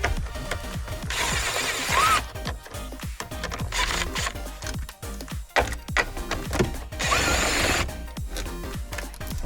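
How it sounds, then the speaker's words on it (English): A power driver removes the four 10 mm screws holding the radio in an FJ Cruiser dash, with two sustained whirring bursts and clattering handling and clicks of parts and tools between them, all close by. "now we got 4 screws on the radio that we're gonna remove"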